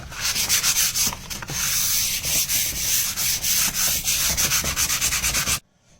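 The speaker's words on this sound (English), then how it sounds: "Flipped it over, sanded it, so it's smooth, so I won't get a splinter when I run my hand across it." A piece of wood being sanded for a homemade sword: close, loud, continuous rasping strokes with a steady back-and-forth rhythm, stopping abruptly near the end.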